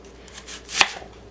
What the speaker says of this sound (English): I also want to chop it up so it's easier to blend